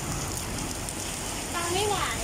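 Heavy rain pours steadily outside a small coffee shop, a dense loud hiss with no break, while a faint voice rises briefly near the end.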